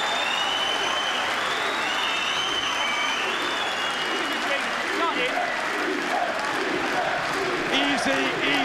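Boxing arena crowd at a light-heavyweight title fight cheering and applauding a fighter, a loud sustained roar of clapping and shouts, with a commentator talking over the noise.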